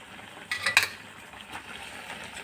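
A spoon clinks and scrapes against a metal pot while drumstick leaf rice is stirred, a short burst of bright metallic knocks followed by softer scraping in a quiet kitchen.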